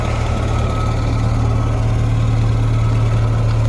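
A CJ3B Jeep engine runs steadily during a test drive, a loud, even low-pitched drone with a constant hum and no break.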